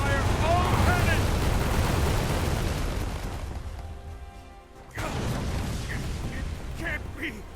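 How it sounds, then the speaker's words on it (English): Ship cannons fire in a naval battle in the video game Uncharted Waters Origin, with a loud roaring barrage of booms and crashes that fades out, then a second burst of blasts rings out. "Fire all cannons!"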